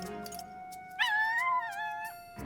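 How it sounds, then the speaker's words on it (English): A small dog in the Metaphor: ReFantazio video game whimpers with a high, wavering whine that rises and holds for about a second, with softer yips around it. "Is that a dog? Is it a little doggy? You have a little pup?"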